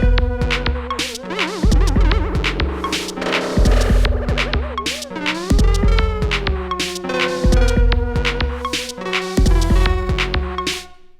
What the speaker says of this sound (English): Chrono pitch can be used flexibly to thicken the sound with a harmonic layer